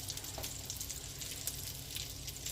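Breaded food frying in a shallow layer of oil in a pan, a quiet, even crackle and fizz that holds steady throughout with faint pops, no voices.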